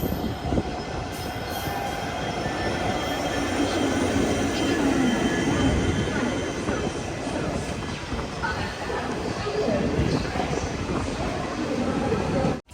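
Silchar–Agartala Express rolling into Kumarghat station in Tripura's Unakoti district, with a steady, loud rumble of wheels and carriages and faint squealing on the rails throughout.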